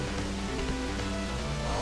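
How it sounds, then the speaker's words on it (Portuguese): Rain hiss in the Mega Drive version of the Sunset Riders video game, a dense steady wash of noise under looping in-game music tones, brief and constant. "E a chuva, olha a chuva."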